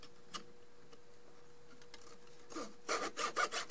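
A small saw cuts a model bridge part in a miter box, with a few faint scrapes followed by a closer burst of quick, rhythmic sawing strokes.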